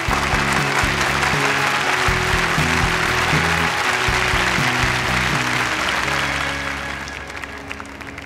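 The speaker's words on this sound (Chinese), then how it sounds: "下面让我们掌声有请顾星妍工作室为大家进行产品展示" Audience applause at a product showcase during a design competition, a dense sustained clapping that fills the whole stretch and eases slightly toward the end.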